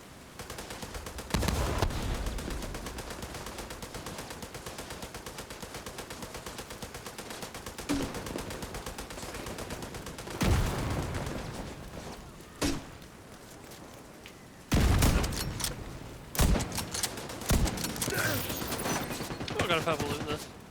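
Light machine gun fire in The Division 2 comes in long, sustained automatic bursts, with a few heavier loud stretches and short pauses between them.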